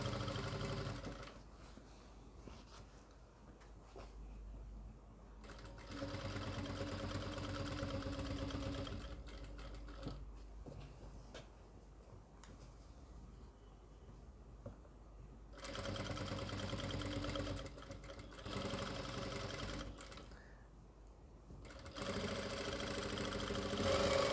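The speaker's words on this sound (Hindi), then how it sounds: "हमने ये किनार पे बिल्कुल सिलाई लगा ली है" A sewing machine stitches along the edge of a front neck design on fabric, running in several bursts of steady mechanical whirring separated by quieter pauses.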